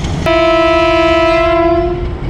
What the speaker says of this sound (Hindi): पूरे 5 बजे HP 208084 ने डिपार्चर हॉर्न कर दिया